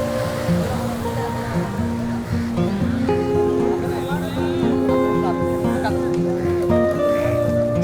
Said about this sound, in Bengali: জোয়ারের পানি বাড়ার কারণে এখন আস্তে আস্তে পানি ঢুকছে এই জায়গাগুলোতে